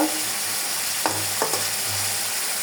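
Potatoes stir-fried in a pan for a pabda fish curry, giving a loud, steady sizzle with a few short scraping strokes of a spatula.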